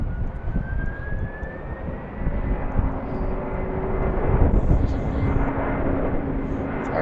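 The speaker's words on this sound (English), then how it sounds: "That one just took off on the other runway" A jet airliner roars steadily as it takes off from a runway at BWI airport in Baltimore, a broad continuous engine rumble that builds slightly toward the end, with faint background activity.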